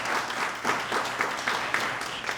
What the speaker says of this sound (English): So please, everyone, just give a big round of applause.